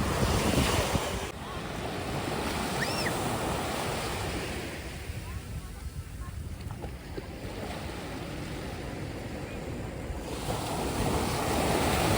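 Sea waves roll and wash steadily along the shore at Marine Drive, Mumbai, with strong wind buffeting the microphone, loud and continuous, easing slightly mid-way before swelling again.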